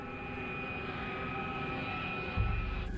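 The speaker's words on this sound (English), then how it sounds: "the airplane is still going down" A damaged jet airliner descends, its engines giving a steady, loud, even roar with a high whine, and a low rumble swells near the end.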